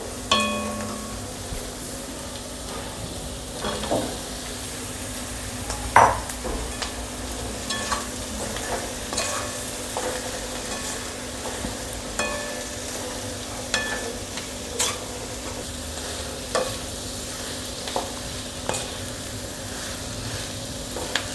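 Potato pieces stirred and fried in a pan with turmeric and salt for a Maharashtrian potato bhaji, a steady sizzle broken by sharp, repeated spatula scrapes and taps.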